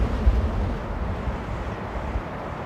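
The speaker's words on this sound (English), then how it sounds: "whoa, another hefty wind gust" A strong wind gust at Amsterdam Airport during rain and strong winds, heard as a steady low buffeting roar that swells briefly near the start and then holds, with no talking.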